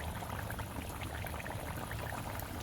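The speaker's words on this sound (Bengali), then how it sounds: "ঝোলটা খুব ভালো মতন ফুটে গেছে" Rohu fish curry broth with potatoes boils in a pot, a soft continuous bubbling burble at low, even loudness with no voices.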